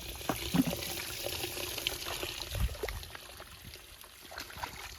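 Water drains out of a rain-flooded wheat field in a faint steady trickling flow, with soft scattered splashes and light handling noises close by.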